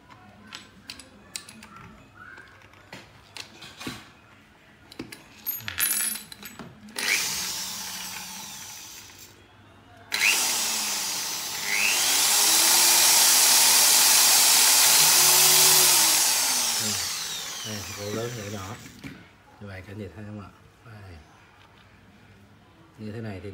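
A power drill bores holes in plastic pipe for a homemade sprinkler system, whining in bursts with one long sustained run in the middle, amid clicks and handling noises while someone speaks Vietnamese between cuts.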